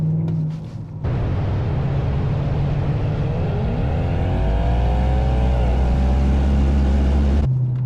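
A Mercedes CLS63 or BMW M5 engine revs high with a loud, rising tone that climbs and holds near the listener over a continuous deep rumble, with no voices.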